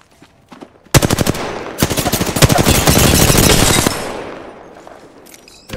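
Gunfire in the Apex Legends battle royale game: a loud, close burst of rapid automatic shots breaks in suddenly, followed by sustained fire with heavy echo, which fades away near the end.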